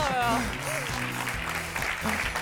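A studio audience applauds on a Saturday-night television talk show. The clapping is sustained and fairly loud, and someone speaks over it throughout.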